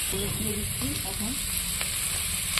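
Potatoes sautéing in a pan with green chillies, a steady close sizzle with a few soft stirring scrapes, no voices.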